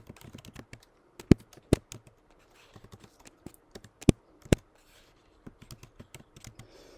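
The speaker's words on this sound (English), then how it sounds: "I gotta get used to this keyboard." A computer keyboard is typed on in scattered bursts, each run of soft clicks broken by a few louder sharp key strikes. It sounds close and quiet, with no talking.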